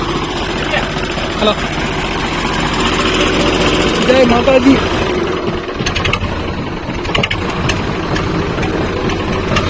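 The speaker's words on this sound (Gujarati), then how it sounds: "આપણું ટ્રેક્ટર ચાલુ થઈ ગયું હોય" A tractor engine runs steadily at idle throughout, a loud continuous mid-pitched drone with people talking over it.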